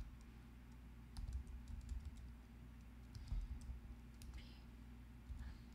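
Quick, quiet clicking of keys on a computer keyboard, typed in short uneven bursts with brief pauses between them, faint and close in a quiet room.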